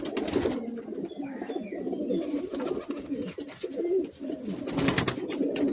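Madrasi high flying pigeons cooing in a steady, overlapping low warble, several birds close by and moderately loud, with light rustling and flutter underneath.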